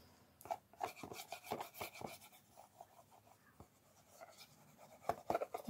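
A glue stick rubs and rasps across paper while glue is spread on a small paper wagon for an advent calendar train, a series of quiet scraping strokes close by with no talking.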